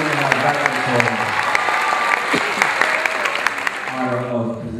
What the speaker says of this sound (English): Let's give another round of applause to our salutatorian and our valedictorian.